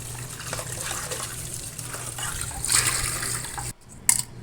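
Water runs and gushes steadily for a few seconds, a broad splashing stream filling a pot of boiled eggs to cool them, then cuts off abruptly before a brief final splash.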